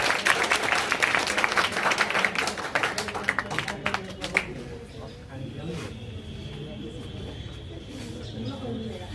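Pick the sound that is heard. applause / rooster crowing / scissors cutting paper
applause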